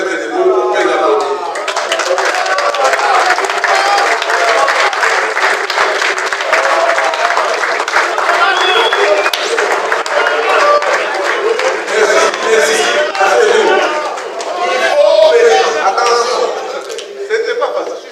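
A crowd at a political gathering applauds deputies and senators, dense sustained clapping that stays loud and close for the whole stretch, swelling slightly near the end, with voices mixed into the noise.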